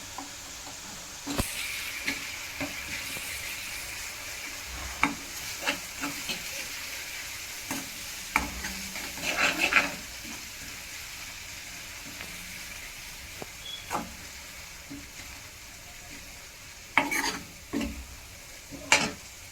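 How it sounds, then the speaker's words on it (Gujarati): Onions sauté in a pan with a little turmeric, giving a low, continuous sizzle broken by scattered scrapes and sharp clinks of a spoon against the pan. Bursts of stirring come around the middle and near the end. "હવે આપણે ડુંગળીને પાકવા દઈશું અને એમાં થોડી અડધી ચમચી જેટલી હળદર નાખશું"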